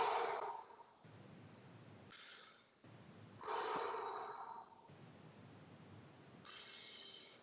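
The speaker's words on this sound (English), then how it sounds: "Big inhale." Several faint, separate breath bursts during a breathing exercise: airy inhales and exhales that rise and fade, with quiet pauses between them.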